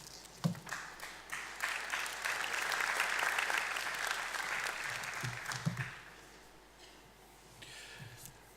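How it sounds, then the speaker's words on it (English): An audience at a university graduation ceremony applauds graduates, a steady wash of many hands clapping that swells and then tapers off, heard from a distance in a large hall. "We will applaud the graduates as each group is completed on the stage."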